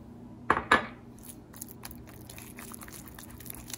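Egg yolks are stirred one at a time into chiffon cake batter in a bowl: two quick, bright clinks of a utensil against the bowl, then soft, faint scraping and light taps.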